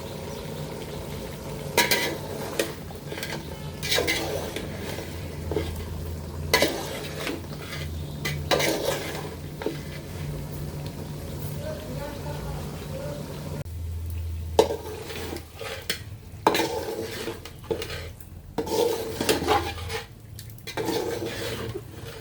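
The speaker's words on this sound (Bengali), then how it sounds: "তেল দিব। তারপর ভালোভাবে এগুলো কষে নিব।" Elephant foot yam and beef stir-fried in oil for a Bengali curry, with steady scraping and clattering of a spatula against the pan over a low hum and soft sizzle, close and alone without talk.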